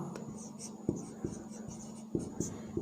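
Chalk or marker scrapes across a board during a class 10 mathematics lesson, a few distinct strokes with short taps in between, heard close over faint room noise.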